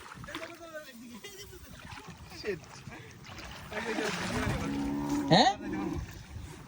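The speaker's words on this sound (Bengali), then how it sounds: "পরে তারা নৌকাটাকে নেমে ধাক্কাচ্ছে" A small wooden boat scrapes and sloshes as people push it through shallow river water, with low splashes and thuds building toward a louder splashing burst, under several people talking and calling out outdoors.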